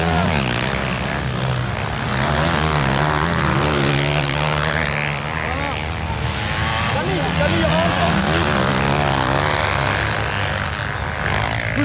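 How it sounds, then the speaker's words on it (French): A propeller airplane drones overhead at a sand race in Saint-Léger-de-Balson, France, a steady loud engine roar lasting throughout, mixed with race motorbike engines and voices talking. "Ah, c'est un avion."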